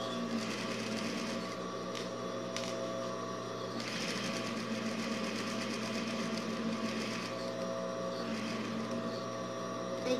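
A sewing machine stitches a pocket in fabric, its motor whirring steadily and close, with a rapid needle chatter running continuously through the stretch and a few brief pauses, no speech.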